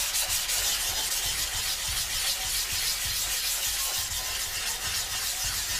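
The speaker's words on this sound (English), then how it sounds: "You want circular motions. We want to get rid of that tarnish and rust there." Abrasive pad or cloth rubs in continuous circular strokes over tarnished, rusty metal on a 1979 AMF Harley Sportster, a close, steady scratchy hiss with regular pulses and no talking.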